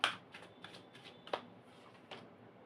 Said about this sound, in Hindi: ओके, एक कार्ड और ले लेती हूँ,